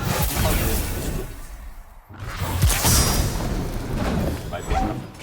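A grenade ability detonates in the video game Destiny 2, giving a loud broadband boom and rushing whoosh. The sound cuts out briefly, then a second sustained, rumbling blast follows.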